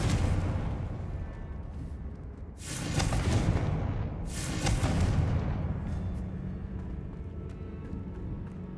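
Confringo and Bombarda spell blasts in the video game Hogwarts Legacy, heard as two loud, close explosive bursts with crackling tails over a low rumbling game backdrop, with no talking.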